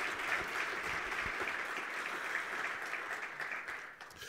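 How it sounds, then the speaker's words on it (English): Audience applause at a national green hydrogen conference session in Namibia, a steady, dense clapping from a large room that holds evenly for several seconds and thins slightly near the end. "Can we please just give them a warm round of applause for that?"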